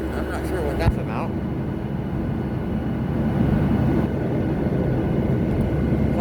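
Airliner taxiing to the gate after landing on Oahu, a steady loud cabin roar of engine rumble with a brief clunk near the start.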